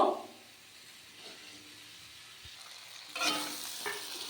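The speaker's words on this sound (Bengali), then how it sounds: "মশলাটা খুব ভালোভাবে ভেজে নিতে হবে এরপর ভেজে রাখা সিম আর মাছ দিয়ে দেব" Spice paste frying in a pan for a Bengali bean and shrimp dish, a soft sizzle and stirring that swells in short bursts near the start and again toward the end, with no talk over it.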